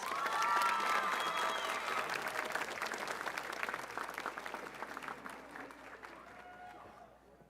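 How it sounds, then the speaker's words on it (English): Audience applause at a school honors assembly, a sustained dense roll of clapping that starts loud and slowly tapers off over several seconds, with no speech over it. "Give them all one more round of applause, please."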